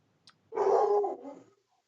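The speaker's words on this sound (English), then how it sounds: "Is that a dog or?" A dog gives one loud, close bark lasting about a second, preceded by a faint click, with silence around it and no talk.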